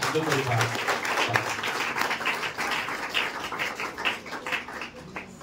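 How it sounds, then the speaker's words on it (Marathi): An audience at a school ceremony honouring top board-exam students gives a dense burst of applause, many hands clapping in a steady patter that thins slightly toward the end, with voices mixed in. "जोरदार सरांसाठी सुद्धा टाळ्या वाजवा"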